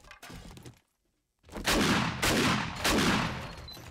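Heavy HD Mossberg shotgun blasts in the zombie survival game 7 Days to Die, three loud booming shots in quick succession after a brief silence, each trailing into a decaying roar.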